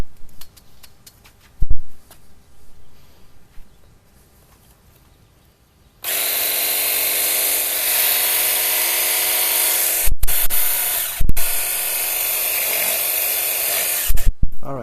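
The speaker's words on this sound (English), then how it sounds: "So let's try spraying the driveway." A Vevor cordless pressure washer is run on a driveway: quiet handling clicks first, then a loud, steady motorized whine and hiss starts abruptly and holds for about eight seconds, broken by two brief cutoffs.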